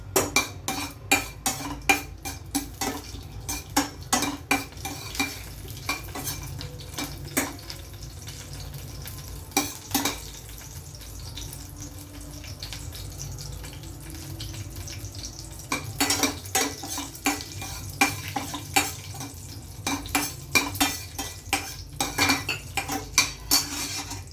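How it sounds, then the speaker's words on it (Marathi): Dry fruits roasting in hot ghee in a kadhai while a spoon stirs them, with steady metallic scraping and clinking against the pan over a low sizzle, loud and close, no talking. "मी थोडेसे ड्रायफ्रूट सगळ्यात रोस्ट करून घेते ह्या तुपातच"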